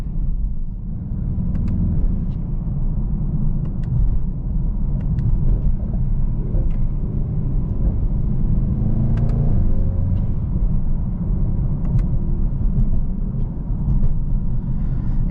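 A 2020 Mercedes-AMG E63S wagon's engine drones steadily from inside the cabin while driving, a loud, continuous low rumble with a few faint clicks and taps over it.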